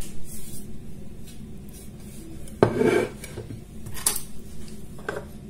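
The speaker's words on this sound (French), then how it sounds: "Si on peut couper comme ça avec la petite fourchette, c'est que c'est moelleux." A small fork cutting into a soft yule log cake, with faint scraping and a few sharp clinks of the fork against the plate. No one speaks.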